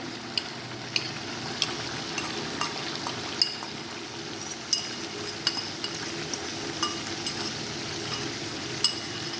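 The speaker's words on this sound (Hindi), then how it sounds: "जैसे ही अदरक लहसुन का पेस्ट जो है वो फ्राई हो जाएगा तो हम इसके साथ ही दही ऐड कर देंगे" Ginger-garlic paste frying with yogurt for a white chicken karahi gives a steady, close sizzle, dotted with light clinks of a utensil stirring against the pan, with no voices.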